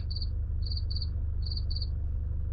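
A SsangYong Rexton Ultimate's optional parking assist alert, rapid high-pitched chirping beeps in short bursts of two or three with brief gaps, heard close inside the cabin over a low steady hum.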